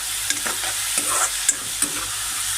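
Food sizzles steadily in a hot pan while a utensil scrapes and stirs with a few sharp clinks, close up.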